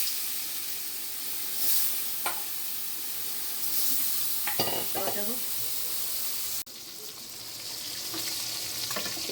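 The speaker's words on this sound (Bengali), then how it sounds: "কড়াইতে দিয়ে দিলাম মাছ।" Snakehead fish frying in hot oil in a wok sizzles with a steady, bright hiss, broken by a few sharp spits and clatters as it is handled, recorded up close in a home kitchen.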